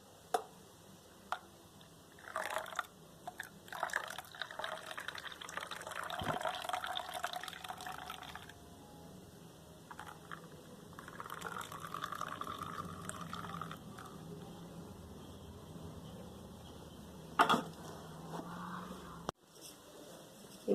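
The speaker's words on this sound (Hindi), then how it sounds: "बाकी का दूध डाल रही हूँ।" Milk poured into a cup of homemade creamy coffee, a close, quiet liquid stream with a steady filling gurgle and light clinks, no talking over it.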